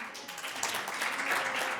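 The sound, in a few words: audience applause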